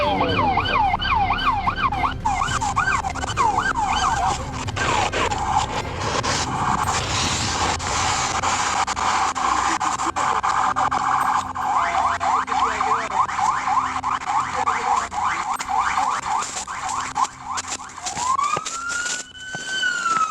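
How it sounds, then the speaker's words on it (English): A police car's wailing siren sweeps up and down continuously, loud and close, with traffic and engine rumble underneath and a second siren rising near the end. "Whoever that is, turn your siren off."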